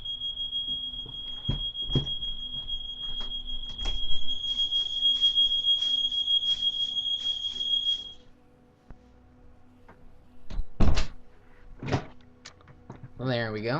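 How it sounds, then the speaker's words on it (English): Household alarm sounding a continuous high-pitched electronic tone for several seconds before stopping, indoors, with a person talking over it and scattered clicks and knocks afterward. "Oh, there's an alarm in my house."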